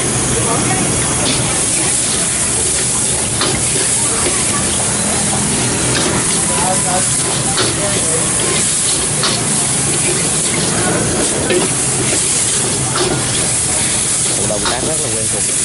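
Beef stir-fried in a very hot pan over a high flame gives a loud, continuous hiss and sizzle with crackling spatter, filling the whole stretch without letup.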